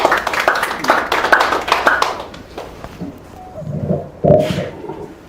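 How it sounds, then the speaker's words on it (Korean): An audience claps for a speaker being introduced at a lecture, the applause dense and steady for about two seconds before fading into scattered claps and faint room noise. "박수 한번 해주세요"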